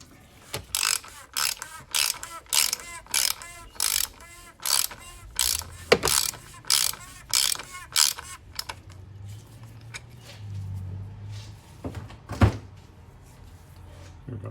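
A hand ratchet clicks in quick repeated bursts while tightening the plastic oil filter housing on a 2015-or-newer Mercedes C300 (W205), with short pauses between strokes and a few later clanks as the tool is set down.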